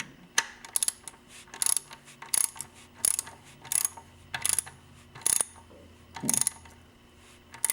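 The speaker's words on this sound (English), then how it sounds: "we're screwing into a rubber grommet, the grommets are compressing, so it'll take a number of turns" Screws are turned into rubber grommets that compress as they tighten, producing a steady series of sharp ratcheting clicks, roughly one every half second, close and distinct against a quiet background.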